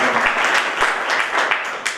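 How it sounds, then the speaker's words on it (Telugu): An audience at a library anniversary celebration claps to welcome a guest. The clapping is loud and close, and many hands strike in quick overlapping bursts for the full duration. "ఈ వారోత్సవాల తొలి రోజు ఆయనకు హృదయపూర్వకంగా చప్పట్లతో స్వాగతం తెలియజేయవచ్చు"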